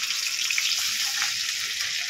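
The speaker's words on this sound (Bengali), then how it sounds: "আদা রসুনের পেস্টটা ভালো করে একটু ভেজে নিয়েছি" Ginger-garlic paste frying in hot oil in a wok gives a steady, bright, hissing sizzle that holds evenly throughout, close by and with no talking.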